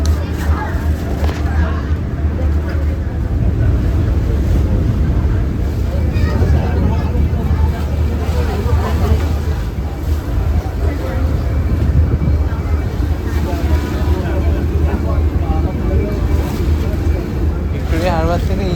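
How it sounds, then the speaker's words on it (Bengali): A boat crossing Victoria Harbour in Hong Kong toward Central: continuous low engine rumble and wind noise throughout, with people talking over it nearby. "এখন যা বোটে করে ওই সেন্ট্রালের দিকে যাচ্ছি আমরা।"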